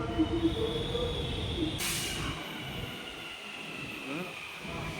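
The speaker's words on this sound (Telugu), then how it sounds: "అవతల ప్లాట్ఫామ్లో అయితే వచ్చింది మెట్రో" A metro train arrives at a station platform, first a loud rolling rumble with squealing wheels, then a sharp hiss and a quieter settling hum as it comes to rest.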